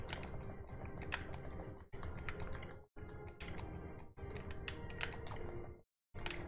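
Rapid, steady chopping of ingredients at a kitchen counter in the cooking game Overcooked, a dense run of crisp clicky knife taps in bursts separated by brief pauses, with no voices.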